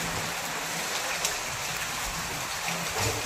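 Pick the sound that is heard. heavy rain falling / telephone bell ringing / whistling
heavy rain falling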